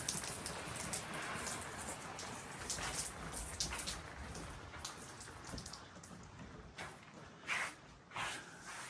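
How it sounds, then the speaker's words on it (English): Steady rain falling outside, a soft, continuous patter of drops on surfaces heard from indoors, fairly faint, with a few louder splashes near the end. "It's raining."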